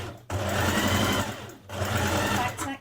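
A sewing machine runs in two close, steady bursts while stitching a skirt seam, with a brief pause between them and a short start at the end.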